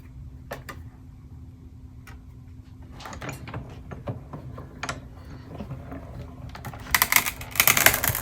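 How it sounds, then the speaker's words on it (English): A die cut machine presses a window sheet and paper through its rollers, giving a run of quiet clicks and crunching taps that grow louder and denser toward the end, alone without talk. "that noise was the window sheet cutting"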